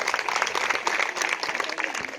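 A lively audience at a career guidance and motivation event in a tribal area claps loudly in a brief, dense burst.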